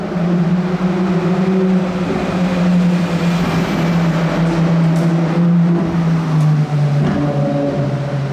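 A Ferrari V12 car engine hums steadily and loud in a tunnel, its pitch sliding gradually lower over several seconds, with a rough mechanical roar throughout.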